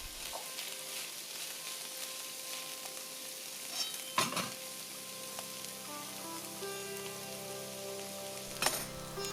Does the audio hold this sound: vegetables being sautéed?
yes